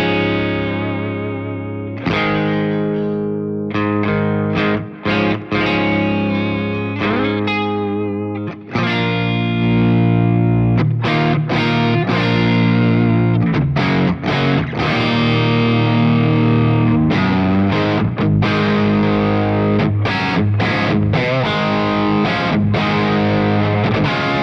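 Electric guitar on a Gretsch Falcon signature model, with a continuous run of strummed chords and riffs that grows from a cleaner tone into heavy, saturated distortion, loud and close throughout with no voices.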